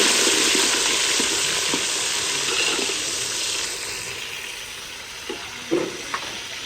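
Onions fry in a pan, a loud continuous sizzle and hiss that gradually softens, with a few light clinks and stirring taps toward the end.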